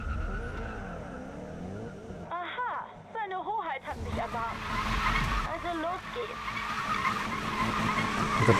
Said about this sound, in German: drifte mit extremen Winkeln und Geschwindigkeiten